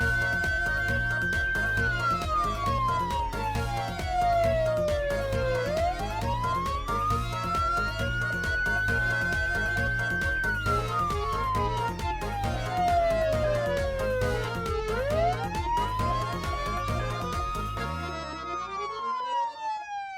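An alarm wails continuously indoors, its pitch sweeping slowly up and down in long cycles over a steady pulsing beat, loud and sustained before cutting off.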